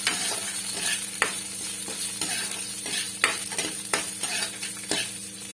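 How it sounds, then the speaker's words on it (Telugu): Ingredients for a mint and peanut chutney fry in a pan with a loud, continuous sizzle, and a spoon stirs them in repeated sharp scrapes and clinks. "కొంచెం ఫ్రై చేసుకోవాలి."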